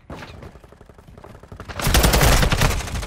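Gunfire in the video game Call of Duty Modern Warfare 2: scattered shots at first, then a loud sustained burst of rapid automatic fire in the second half.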